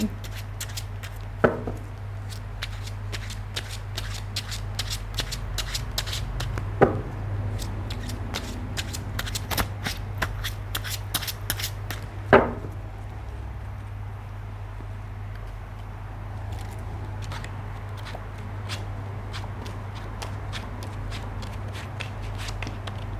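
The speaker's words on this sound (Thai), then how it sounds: "มาดูสถานการณ์ตอนนี้ก่อนเนาะนะคะ โดยการเปิดไพ่10ใบนะคะ" Tarot cards are shuffled and dealt onto a table in a run of quick crisp flicks and snaps, with a few louder slaps as cards land, over a steady low hum.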